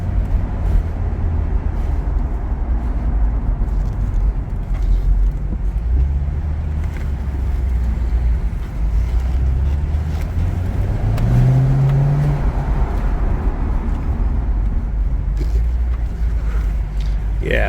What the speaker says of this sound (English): that LS3 sounds pretty good echoing off of the parking garage